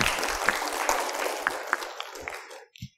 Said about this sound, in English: It's one of those things in Asia, you always have to start clapping.